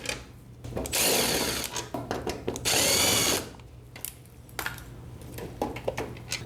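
A power drill whirs in two loud, sustained bursts of about a second each while removing bottom headlight screws on a 1995 Chevy truck, followed by scattered clicks and handling noises, close by with no talk.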